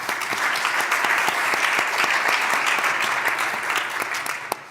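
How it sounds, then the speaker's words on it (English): An audience at a business process management summit talk gives sustained, dense applause, loud and even for several seconds before tapering slightly at the end. "Big applause."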